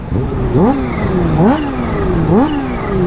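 A Kawasaki H2 supercharged motorcycle with an SC Project exhaust revs hard three times in close succession, each blip rising sharply in pitch and falling back to a loud, steady idle, heard up close with no talking.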